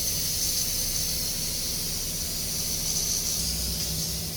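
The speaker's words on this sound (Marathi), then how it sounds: "इकडं फिल्टर आहे ना, फिल्टरचा आवाज येतोय." A water filter running in a home kitchen makes a soft, even hiss that continues throughout with no voices.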